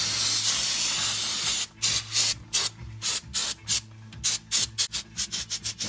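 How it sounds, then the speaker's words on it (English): Brake cleaner sprayed from an aerosol can onto an Akebono big brake kit caliper and rotor on a 2009–2017 Nissan Maxima: a steady close hiss, then a string of short sharp bursts quickening toward the end. "Some brake cleaner. Get all the dirt and grease off."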